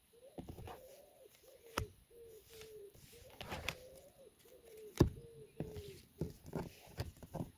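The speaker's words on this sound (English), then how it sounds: "You guys hear those birds?" Birds call outdoors in a natural setting, with a repeated cooing phrase of even, pulsing notes that recurs through the clip, mixed with scattered rustles and knocks.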